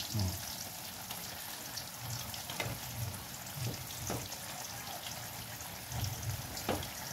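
Steady crackling sizzle of galunggong (round scad) frying in hot oil, continuous and close, with occasional louder pops and faint clinks.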